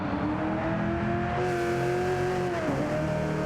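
Supercars race car with a manual gearbox at Bathurst in a racing video game, its engine droning steadily and close, the pitch dipping briefly as a gear shifts, with no talk.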